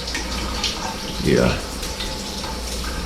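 A hotel shower head at a Tru by Hilton in Baton Rouge runs water, a steady hissing spray with a brief surge of splashing near the middle, under a short spoken word.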